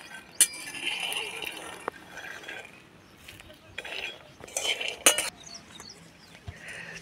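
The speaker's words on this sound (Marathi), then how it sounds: "तर आता शेंगदाणे काढून घेणार आहोत।" Roasted peanuts scooped out of a pan for chikki, with scattered metallic scrapes and light clinks of a utensil against the pan, a few sharper knocks standing out over a quiet background.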